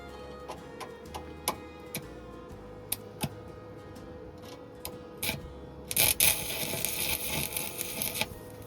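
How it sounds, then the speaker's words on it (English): Stick welding a tack weld on a rusted rear vehicle frame: a short burst of crackling, sizzling arc near the end follows a run of irregular ticks and taps, close and fairly quiet, with no talk. "That's what you call a tack."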